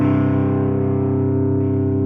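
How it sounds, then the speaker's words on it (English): A sustained electronic tone rings out through a long, dense reverb effect being tested on a radio program, loud and steady with a slowly smearing tail and no speech. "I hear a long dangly reverb."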